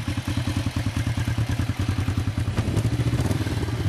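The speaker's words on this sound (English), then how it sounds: "These are just a nice running twin cylinder bike." A 2006 Kawasaki Vulcan 500 twin-cylinder motorcycle idling close by with an even, loping pulse of thumping exhaust beats, alone and steady, the rhythm quickening slightly near the end.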